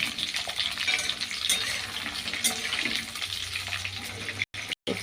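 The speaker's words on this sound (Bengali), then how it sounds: "তো লাল লাল করে ভাজতে দেখছো" Food fries in a pan until it turns reddish, giving a steady, close hiss of sizzling oil with faint stirring scrapes and two short dropouts near the end, with no talking.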